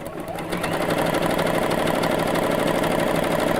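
A sewing machine hums loud and close in a continuous run, stitching a side-to-side satin stitch, with a steady mechanical whir and no pauses.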